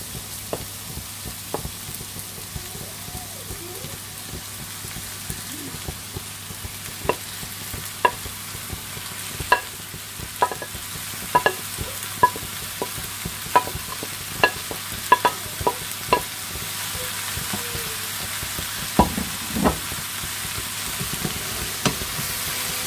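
Ground meat, lardons and corned beef sizzle softly in a pan under a steady low frying hiss, while a utensil stirs with repeated sharp scrapes and taps against the pan, close and without talk.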